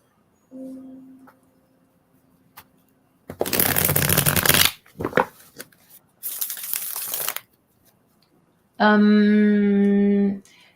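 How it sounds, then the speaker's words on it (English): Tarot cards shuffled in several quick riffling bursts, crisp and close, with a brief voice-like tone before and after. "Okay, Miranda, let me give my deck a shuffle here"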